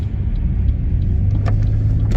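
Car rolling slowly through a right turn at a traffic light, a steady low rumble of engine and road noise with a few light clicks near the end.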